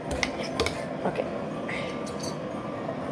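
A mixture being stirred in a bowl: steady scraping and soft clinks of a utensil against the bowl, with a few louder taps near the start, over a constant background.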